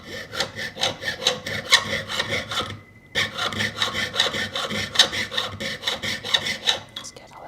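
A hand saw blade cutting back and forth in steady rhythmic strokes, loud and close, with a brief pause partway through before the rasping resumes.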